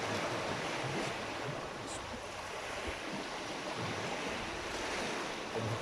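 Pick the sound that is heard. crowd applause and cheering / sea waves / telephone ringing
sea waves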